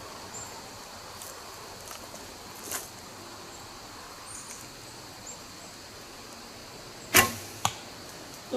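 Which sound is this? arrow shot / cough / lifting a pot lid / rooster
arrow shot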